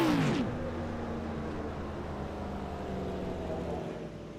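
Race car engine at a night race at South Boston speedway, a steady droning rumble with a brief rising rev at the start, heard from a distance and fading slightly, with no talk.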